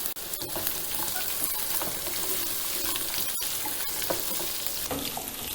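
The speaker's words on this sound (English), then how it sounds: "Add in the chopped vegetables." Chopped vegetables sizzle loudly in hot oil with fennel, fenugreek, onion, mustard and cumin seeds, a dense steady hiss broken by a few sharp crackles and stirring knocks, with no talking.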